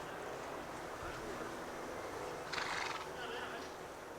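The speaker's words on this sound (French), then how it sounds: "Isseni a été chargé de convoyer le cheval de son oncle jusqu'au club hippique" A horse whinnies in a brief burst partway through, over a steady ambient background with some outdoor noise.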